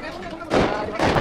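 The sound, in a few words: firecrackers going off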